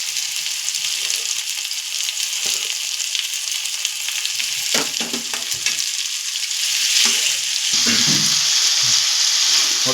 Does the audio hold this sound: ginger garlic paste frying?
yes